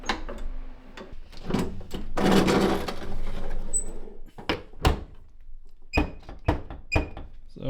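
A Shoebox Ford trunk lid is shut and latched, heard as a string of sharp thunks and clicks with some rustling and handling noise between them. The sounds are close and solid, with no one talking.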